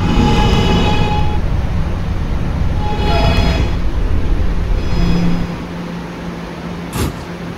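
Steady low rumble of an R211A subway train on the R local line in Roblox, running loud and continuous with a brief hiss near the end as it eases down.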